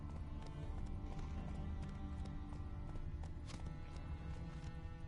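Roach, a horse in The Witcher 3, gallops along a road with a quick, steady clip-clop of hooves, moderately close, over a constant low background hum.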